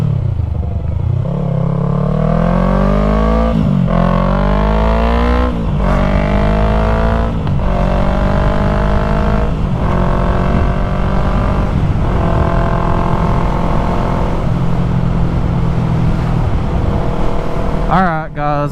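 A Yamaha MT-03 motorcycle with a new aftermarket exhaust rides along gravelly backroads, its engine loud and close, revving up through repeated gear shifts in rising sweeps with brief dips between, plus wind rush.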